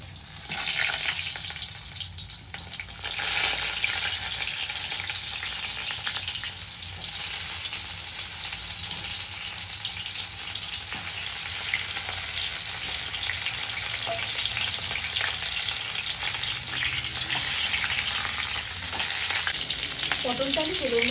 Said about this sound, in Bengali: এবার আমি একে একে পটলগুলো ভেজে নিচ্ছি।